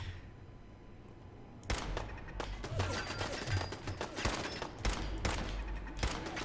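Rapid gunfire in Fallout 4 at the Corvega assembly plant, a quiet lull followed by sharp, repeated shots and bursts cracking loudly and irregularly over several seconds.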